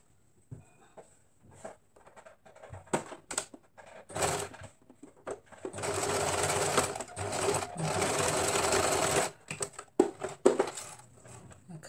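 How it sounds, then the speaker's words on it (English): A sewing machine stitches a zigzag seam on shorts, starting with scattered clicks and short bursts, then running steadily for a few seconds before breaking into more short bursts and taps, close and fairly quiet. "we're going to run a zigzag stitch"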